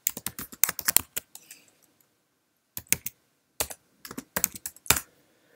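Keys clack on a Mac computer keyboard as a terminal command is typed, two quick bursts of crisp taps separated by a short pause, close and clear with no voices.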